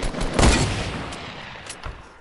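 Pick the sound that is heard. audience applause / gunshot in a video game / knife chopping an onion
gunshot in a video game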